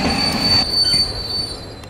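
Steel train wheels screech in a loud, sustained high squeal as the train brakes after the emergency chain is pulled, with a rumbling rail noise underneath, close and continuous.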